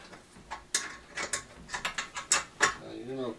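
A hand ratchet clicks in short bursts while tightening bolts on home theater seats, with a run of close, sharp ratcheting ticks and a brief creak at the end.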